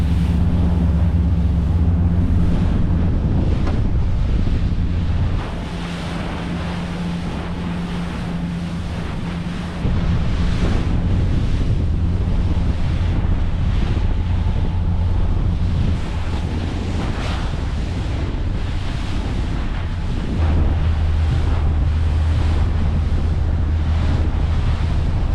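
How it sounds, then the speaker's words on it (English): A boat cruises at about 20 knots through incoming swell in a northeasterly wind, with steady broadband wind and water rush, a continuous low engine drone, and wave slaps that come and go across the whole stretch. "northeasterly wind, which we've got a bit of swell coming in. But we're cruising through at 20 knots without too much difficulty"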